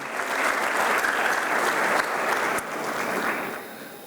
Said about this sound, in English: Another round of applause to this major achievement.